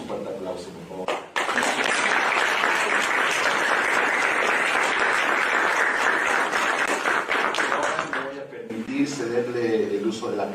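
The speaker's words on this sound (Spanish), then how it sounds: "le metamos un fuerte aplauso, por favor." Audience applause at a book presentation on the intellectual output of Tlaxcala's towns, a loud, dense burst of clapping lasting several seconds, with brief speech at the start and the end.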